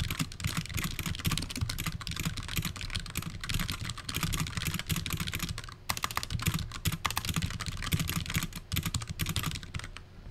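Rapid, continuous clatter of keys on a computer keyboard during a typing game, with dense, steady keystrokes and a brief pause near the middle.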